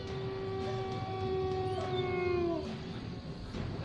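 A wolf howls in long, steady, rising and falling tones, fairly faint and distant, over a low background hiss, with no talking.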